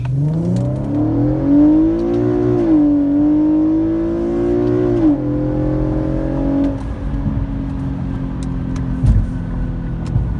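Infiniti Q50 fitted with a Remark axle-back exhaust and muffler delete, floored from a stop at full throttle; heard from inside the cabin, a loud, deep engine drone climbs through the revs, shifts, then settles to a lower steady rumble.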